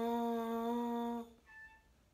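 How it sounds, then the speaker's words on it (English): A single sustained buzz on a French horn mouthpiece alone, steady and pitched, stopping abruptly and followed by a faint brief tone, close and quiet. "With the mouthpiece, your articulation is going to sound like this."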